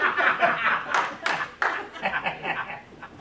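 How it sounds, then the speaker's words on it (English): A comedy show audience gives scattered, brief clapping mixed with chuckles and light laughter, a modest crowd sound rather than full applause. "Funny, you didn't have to clap."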